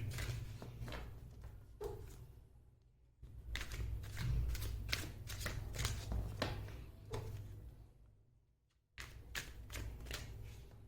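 Tarot cards being shuffled by hand at close range, a dense run of crisp riffling flutters and slaps broken by two short pauses, alone with no talk.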